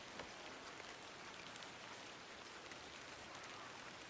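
Steady rain falls throughout a scene in the video game The Excavation of Hob's Barrow, a dense, even hiss of drops on surfaces with no voices over it.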